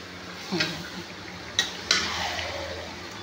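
Chicken curry with potato and papaya is stirred in a pan, a few distinct clinks and scrapes of a utensil against metal rising over a low, steady background hiss.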